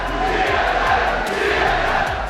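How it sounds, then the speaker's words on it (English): Arena crowd at the 2013 League of Legends World Championship group stage reacting loudly against a team, a dense sustained roar of many voices with a booing tone filling the whole stretch. "Ooh, you got a boo."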